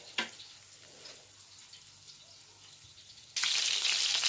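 Hake cutlets frying in a pan: a low, steady sizzle for several seconds, then a sudden, much louder crackling hiss near the end.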